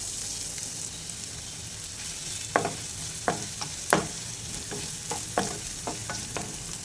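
Chopped onions and curry leaves fry in oil in a pan, a steady hiss under a handful of sharp spoon scrapes and taps as they are stirred, close and alone.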